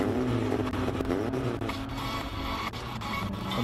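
A 1981 Porsche 924 drives past at a classic car race day, its engine a steady, loud drone that holds throughout with a slight swell toward the end.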